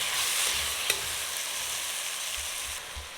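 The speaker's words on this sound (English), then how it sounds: "Give it a stir. Reduce the heat to medium and we'll cook for about 2 minutes." Bok choy and shrimp sizzle in a hot pan with a steady hiss, while a spoon stirs them with soft scraping and one sharp tap near the start.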